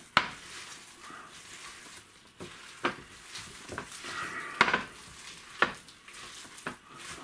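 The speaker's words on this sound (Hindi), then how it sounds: "फिर इसको अच्छी तरह मिक्स करते हैं प्याज को डाल के" Chopped onion is mixed into pakora batter in a bowl, giving soft, wet stirring with sharp intermittent scrapes and clicks of a spoon against the bowl, fairly quiet and close.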